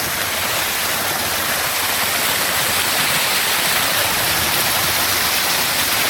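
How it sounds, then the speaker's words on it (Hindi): Dense, steady roar of a waterfall rushing in heavy rain with a hiss of rain, continuous and loud throughout with no voices. "यहाँ पर बारिश का ये कहर हो रहा है झरना आ रहा है ऊपर से"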